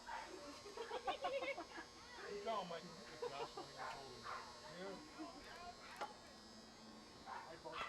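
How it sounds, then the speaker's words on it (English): A dog barks repeatedly at a ballpark during an Oneonta Outlaws versus Mohawk Valley Diamond Dawgs baseball game, with yips coming through under a commentator's ongoing talk and crowd ambience. "There's a dog in the park. Couldn't be any louder."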